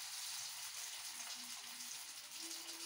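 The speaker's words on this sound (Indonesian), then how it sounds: "Tempe goreng tepung ya" Tempeh coated in flour batter frying in hot oil, a steady close hiss and crackle throughout with no voices.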